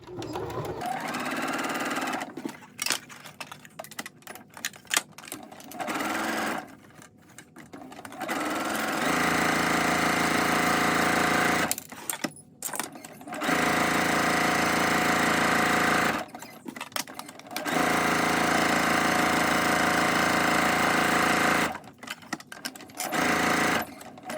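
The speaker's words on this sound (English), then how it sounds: "We're now going to sew all the way around our mask with a 1/4 inch seam allowance while leaving 3 inches open on this side." A sewing machine stitches a 1/4 inch seam around the edge of a simple rectangular fabric face mask, running in loud, steady bursts that stop and restart several times, close and without talk.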